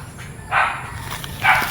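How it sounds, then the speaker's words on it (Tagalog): Two short barks from a farm dog, one around a half-second in and another near the end, moderately close against a low background hum. "Kasi tumatahol yung aso."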